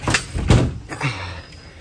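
A locked front door of a house being tried, with several knocking or rattling thumps and a handle jiggle, close by and moderately loud.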